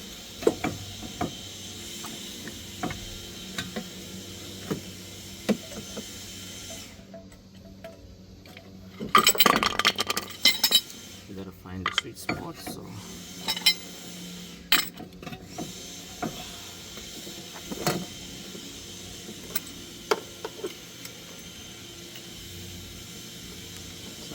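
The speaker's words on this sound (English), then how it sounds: "just crank the seat pump, and now we are compressing the piston" A C-clamp being cranked to compress a front brake caliper piston on a 2018 VW Atlas, with quiet metallic clinks, ratcheting clicks and scattered mechanical taps, a denser burst of clanking partway through, close by and otherwise near silent.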